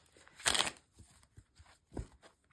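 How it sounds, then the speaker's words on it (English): Tarot cards shuffled once by hand, a quiet papery riffle that swells briefly, followed by a few soft taps and a second faint rustle, close and alone. "I'm going to just shuffle one time to get the message that the page is bringing us today"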